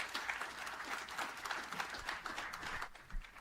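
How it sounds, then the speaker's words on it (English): Scattered applause from an audience at a think-tank talk, a modest crowd clapping unevenly and fairly quietly, with individual claps audible in an irregular patter throughout. "Give a warm round of applause"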